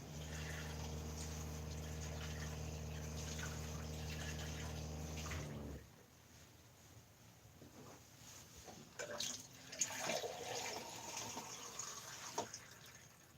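Tap water runs inside an RV, pouring into a container as a steady, fairly loud gush for several seconds before it shuts off, followed by quieter handling clatter and small knocks.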